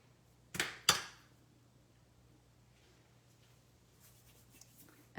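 A paper piece for a handmade stamped card is trimmed in two quick, crisp cutting strokes close by, followed by near silence with faint rustles.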